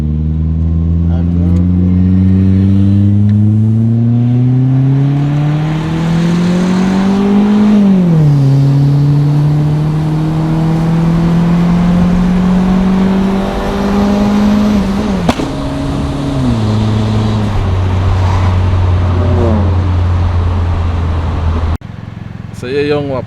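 Tuned turbocharged car engine, a Subaru Legacy STI or a boosted Toyota Caldina with a 3SGTE, revving loudly and steadily with pitch climbing, dipping and climbing again, close by throughout with people talking over it.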